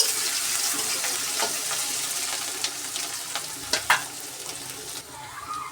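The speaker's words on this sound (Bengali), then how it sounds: "পেঁয়াজটাকে লাল করে ভেজে নেব।" Chopped onions fry in a pan with a steady broadband sizzle, a few sharp crackles and stirring scrapes standing out near the end, all at moderate level with no talk.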